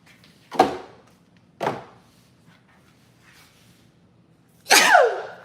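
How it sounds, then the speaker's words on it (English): A person sneezes from dust on old bottles in a nutrition cabinet: two sharp sneezes close together, a pause, then a third longer, louder sneeze, heard near and alone. "They're making me sneeze."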